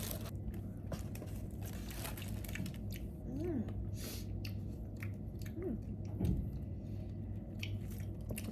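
Someone chews mangosteen fruit up close, with soft wet squishing and biting sounds over a steady low hum and faint background noise.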